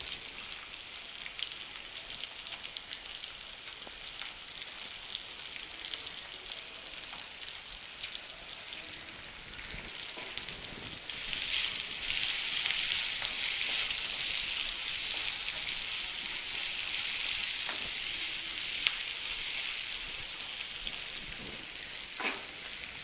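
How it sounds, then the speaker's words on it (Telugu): Chopped onions fry with green chillies in a pan for methi dal, a continuous close hiss of sizzling that swells louder about halfway through and stays steady, with no one talking. "ఇప్పుడు తరిగి పెట్టుకున్న కొంచెం ఉల్లిపాయలు"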